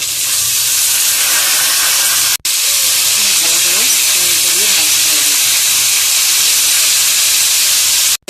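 Pointed gourd peels and dried chilies frying in hot oil with black cumin, a loud, steady hissing sizzle close up, briefly cut off once, with a faint voice underneath.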